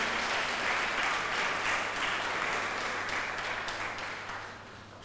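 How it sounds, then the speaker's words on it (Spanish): A church congregation applauds during a sermon, a dense, even wash of clapping that sounds somewhat distant and fades slightly toward the end of five seconds, with no speech on top. "Dele un aplauso al Jesucristo de Isaías"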